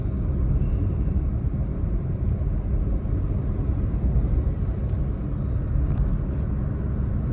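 Maruti Suzuki Swift 2023 cruising at 80 km/h on a highway, a steady low road and engine rumble with tyre noise filling the cabin continuously, no talk.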